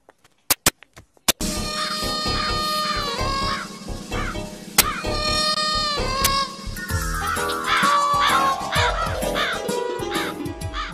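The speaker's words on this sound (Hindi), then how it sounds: "कौवा काव काव कर रहा" A crow caws repeatedly over a busy, tonal background after a few sharp clicks at the start, the harsh calls rising and falling.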